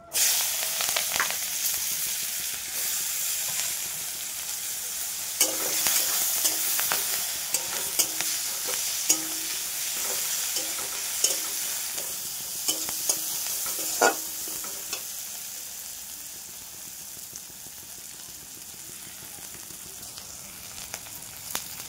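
Chopped onion sizzles steadily in hot oil with bay leaves in a wok, a soft continuous frying hiss broken by a few sharp stirring clinks and scrapes.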